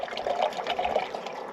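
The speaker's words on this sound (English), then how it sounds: "Just gonna dump the whole bottle of water in." Water is dumped from a bottle into a pot at a winter campsite, a short, close glugging pour with bubbly gurgles for about a second and a half.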